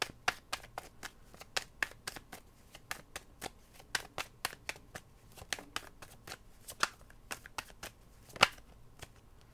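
Tarot cards riffled and shuffled by hand, a quiet series of quick crisp flicks and slaps in an uneven rhythm, close and soft, with no talking.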